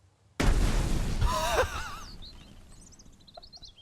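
A hand grenade goes off in the survival game Mist Survival, a sudden loud blast followed by a rumbling, fading tail and a few faint game sounds afterward.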